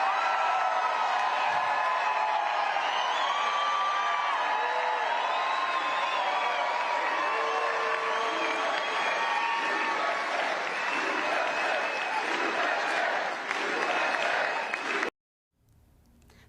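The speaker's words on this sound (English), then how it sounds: "great reaction from the crowd" A large political conference crowd bursts into sustained applause and cheering after a speech, a dense, loud roar of clapping and whoops that holds steady for about fifteen seconds before cutting off abruptly.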